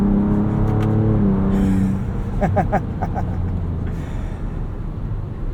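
A 2024 Ford Ranger Raptor pickup revs loudly up close, its engine note climbing and then settling into a rough broadband rumble as the truck slides, with a voice briefly audible.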